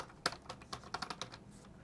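Quick keystrokes on a computer keyboard, a dozen or so close, crisp clicks in an uneven run, with one sharper tap near the start and faint background hum between them and no voices.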